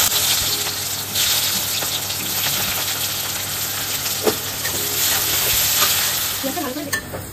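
Onions fry in hot white oil in a wok with whole garam masala, a loud, steady sizzle with occasional scraping stirs.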